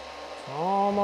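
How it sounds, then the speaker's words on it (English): A hair dryer struggles to start, its motor whine rising in pitch as it spins up and then settling into a steady, loud hum. "the dryer almost didn't even want to start"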